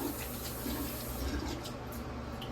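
Water trickles from wet hands over a baby ball python in a continuous, close splashing wash that stays steady and unbroken throughout.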